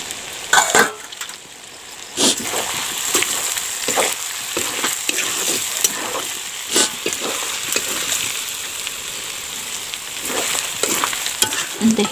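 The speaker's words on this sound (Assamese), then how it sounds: "তাৰপিছত যিখিনি আলু মই ভাজি লৈছিলোঁ সেইখিনি দি দিলোঁ।" Fried potatoes tossed with cumin seeds in a pan for an Assamese chicken dish, sizzling steadily with repeated scraping stir strokes and clatter, close and fairly loud with no talk.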